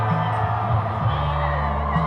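A crowd cheering at the San Antonio Spurs' 1999 championship airport arrival, a sustained roar of voices and whoops under a steady low rumble, with no clear single voice standing out.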